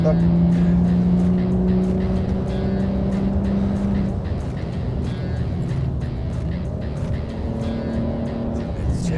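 A BMW E46 car engine drones past at speed on the Nürburgring, its pitch sliding down as it moves away, with a voice talking briefly over the steady road noise.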